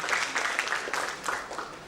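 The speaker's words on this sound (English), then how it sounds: "A big round of applause for Mr." An audience at a banking panel discussion applauds the moderator, a brief, dense burst of clapping from a crowd, fairly close and steady throughout.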